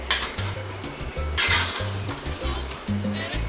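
Chicken and cheese sizzle in a buttered pan set to medium-high heat, a steady close frying hiss broken by rhythmic scraping and stirring of a utensil against the pan.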